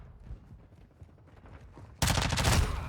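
Sustained burst of SMG gunfire in Warzone 2, a loud rapid automatic stream that kicks in abruptly partway through after a stretch of quiet background rumble.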